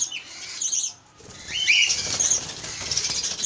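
A cockatiel flaps its wings in short fluttering bursts close by, with high chirps and calls from nearby pet birds mixed in.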